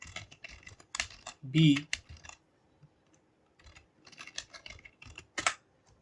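Computer keyboard typing Python code, with bursts of key clicks clustered between pauses, close and moderately loud, alongside a voice talking.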